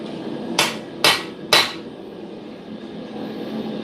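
Three sharp hammer blows ring out in quick succession as blanks are forged for a cutlass in a smithing workshop, metallic and close, over steady shop background noise.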